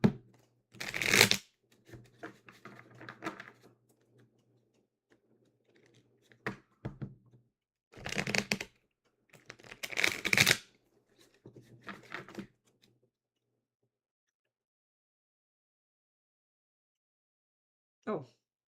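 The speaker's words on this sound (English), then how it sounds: "We get some good shuffling going." Tarot cards being shuffled in several short bursts of riffling and sliding, close and fairly quiet, separated by pauses, with a single brief tap near the end and no talking over it.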